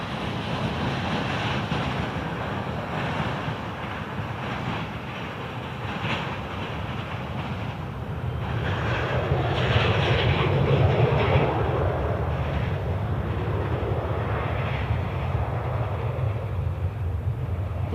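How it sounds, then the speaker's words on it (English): An American Airlines Boeing 737 jet on the runway at Cleveland Hopkins airport, heard as a broad, steady engine roar that swells louder partway through and holds, somewhat distant, with no talking. "American 737 taking the runway now."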